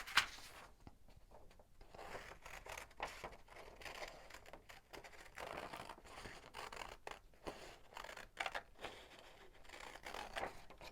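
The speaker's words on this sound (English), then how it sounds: "you can go ahead and cut out the templates" Scissors snipping through paper piecing templates, a quiet run of close, repeated crisp cuts and rustles with short pauses between strokes.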